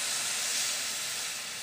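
Water poured into a hot pan of frying ridge gourd pieces sets off a steady, hissing sizzle that stays fairly soft and even for under two seconds.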